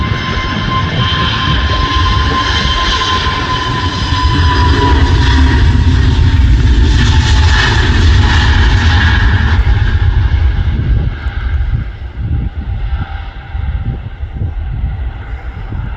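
A Pegasus Airlines jet airliner, headed for Istanbul Sabiha Gökçen and seen from Manchester Airport, roars past as a loud, steady engine rumble that swells near the middle and then slowly fades and thins out.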